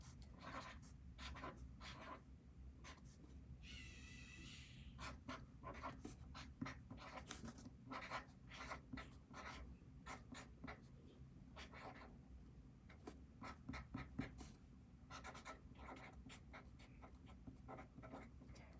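A pen or marker writing a matrix formula on a board, steady scratchy strokes in short repeated bursts, close and fairly faint.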